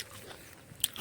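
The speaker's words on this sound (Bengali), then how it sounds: "এই দেখুন গাছ থেকে পেড়ে কুল খাচ্ছি" Someone bites into a jujube (kul) fruit freshly picked from the tree, giving one brief, crisp crunch near the end over quiet, faint chewing.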